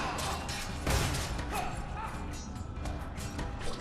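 A dog barks amid a loud, cluttered Fable 3 keep battle scene, with sharp yips and thuds mixed into constant combat noise.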